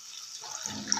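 Water poured into a pan of green chilli chutney, a short splashing trickle that starts faint and builds into a fuller pour within about a second, with no talking.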